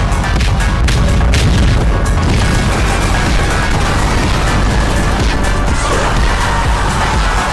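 Incendiary artillery shells pounding swarms of biters in a video game, a dense, loud barrage of booming blasts and crashing impacts that rumbles on without pause.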